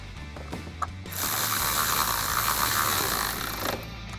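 A 10mm headlight screw being driven back in on a 2011-2016 Ford Super Duty. A few faint clicks are followed by a sustained close ratcheting whir lasting several seconds, then a stop, with no talking.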